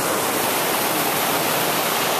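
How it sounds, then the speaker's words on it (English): Steady rushing water spills and trickles down a wooded hillside beside a waterfall in the Columbia Gorge on the Multnomah–Wahkeena loop, a dense, even broadband hiss that holds constant and close throughout. "You get little dribbles of water coming down the hillside."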